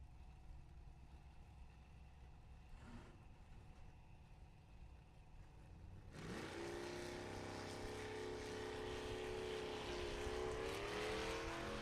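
A drag racing truck roars up at a racetrack, its engine bursting in suddenly midway and then holding a loud, rising whine as it accelerates down the lane, after a quieter stretch of low rumble.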